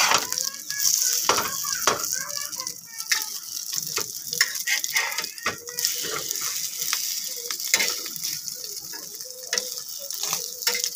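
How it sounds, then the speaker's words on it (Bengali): Bread pakora frying in hot oil gives a steady, soft sizzle across the whole stretch, with light clicks and scrapes of stirring scattered throughout and no talking. "দেখো বন্ধুরা খুব সহজে আমি ভেজে নিচ্ছি।"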